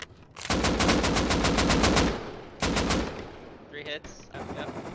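Rapid automatic gunfire in the survival video game Rust, aimed at a landing helicopter: two loud sustained bursts of evenly spaced shots, then a few quieter scattered sounds.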